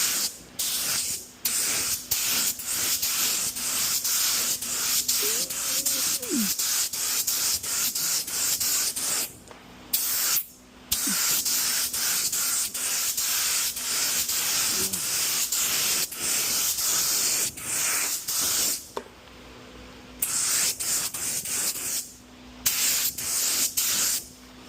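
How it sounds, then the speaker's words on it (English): Spray gun laying a heavy paint coat on a car panel during a soft edge blend, hissing in repeated long bursts separated by brief pauses, close and loud. "We're going to come in with the second one and hit it with a heavy coat."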